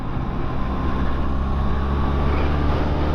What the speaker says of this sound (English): I love that little pop and burble off the exhaust like my BM does it